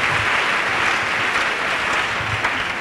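A congregation at a religious gathering claps steadily in a dense, even burst of applause lasting a few seconds.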